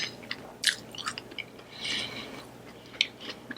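Close-up chewing of scallop during a seafood boil mukbang with Flamin Hot Cheetos, wet mouth clicks and soft crunchy bites repeating irregularly, moderately loud and near, with no talking.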